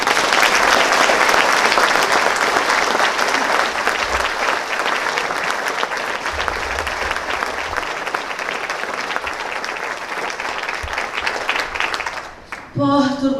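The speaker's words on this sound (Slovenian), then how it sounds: "pa jim namenimo že na začetku en aplavz" A concert audience at a summer gala performance of Carmen claps in loud, sustained, dense applause that fades near the end as a voice begins speaking.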